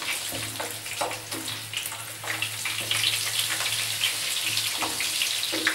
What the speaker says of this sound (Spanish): tres dientes de ajo que vamos a sofreírlo junto con el pimiento colorado.